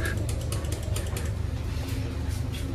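The door mechanism of an economy train carriage on the Majapahit New Generation service rattles and ratchets as it fails to open, a continuous busy clatter of gears and creaks, loud and close.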